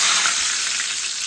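Slit green chillies fry in hot oil with a dense, steady, close sizzle that holds evenly throughout, with no voices.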